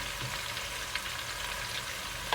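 Vegetable noodles stir-fry in a pan with soy sauce, giving a steady broadband sizzle with faint scraping of stirring, alone and without talk.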